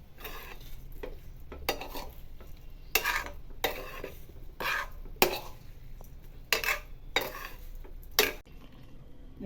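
A spoon stirs and mixes batter of amaranth (rajgira) flour for farali patra in a metal pot, scraping close up in irregular bursts with short pauses between strokes.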